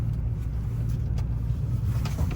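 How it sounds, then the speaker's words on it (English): Pickup truck driving through snow in four-wheel drive, a steady low engine and drivetrain rumble with road noise that holds constant throughout, close and moderately loud. "Got the truck in four-wheel drive."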